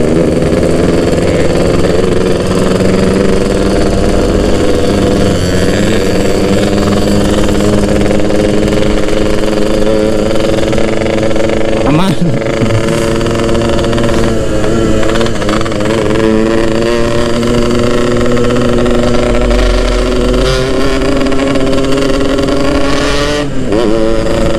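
A Yamaha RX King motorcycle engine runs steadily and loudly up close for the whole stretch, a throaty, buzzing two-stroke idle with slight revs and one or two sharper blips.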